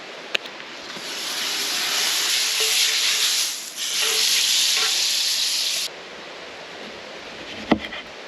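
Burger patties sizzle steadily on a camp stove at a cold-weather truck campsite in a national forest, a loud broad frying hiss that dips briefly midway, then drops lower with a sharp click near the end.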